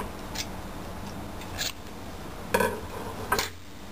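Quiet, short snips of scissors cutting yarn on a round knitting loom, four separate crisp cuts spaced a second or so apart over a faint, still background.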